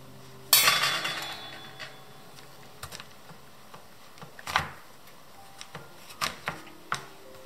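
A knife chops high-quality chocolate on a board: one sharp first cut, then scattered light taps and clicks, close and clear, with a few louder knocks near the end and no talking.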